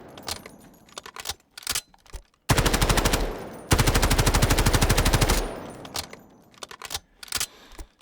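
Rapid automatic gunfire from a rifle set to a high gas setting in the Delta Force video game, two loud sustained bursts at a fast, even cyclic rate, bracketed by sparse clicks and handling noises.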